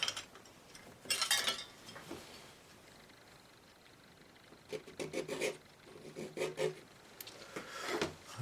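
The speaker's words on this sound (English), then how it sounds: "Let's scrape a bit of that off." A palette knife or tool scrapes acrylic paint off a painting of moss-roofed dwellings, with a few short rasping strokes near the start and more scraping later, close and fairly quiet.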